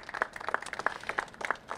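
A crowd at an outdoor mayoral event for a district-wide spring cleaning gives a big round of applause for Fred Jackson, a brief burst of scattered, uneven clapping with no talk over it.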